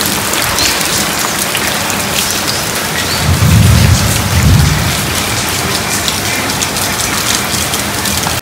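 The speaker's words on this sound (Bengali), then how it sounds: "এই মুহূর্তে প্রচণ্ড পরিমাণে বৃষ্টি হয়ে গেল" Heavy rain pours steadily and loudly on surfaces, with a low rumble of thunder swelling in the middle before fading back under the constant downpour.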